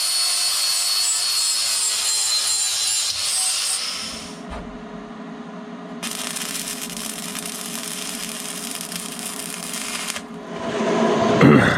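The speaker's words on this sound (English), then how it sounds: "I'm now just going to grind a bevel on the pipes and then weld them up." Grinding a bevel on metal pipes with a power grinder, a loud continuous harsh grinding roar that changes pitch as the tool is pressed and eased off the pipe, no talk.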